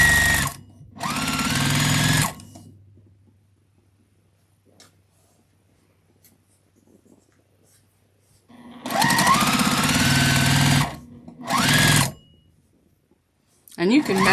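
A sewing machine run by a foot pedal stitches quilt-as-you-go table runner pieces made from scraps, in three close, loud bursts of rapid whirring and clatter separated by long quiet gaps.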